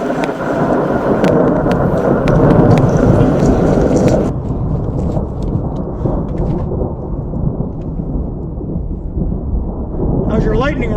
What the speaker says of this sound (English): You can hear the thunder in the distance here.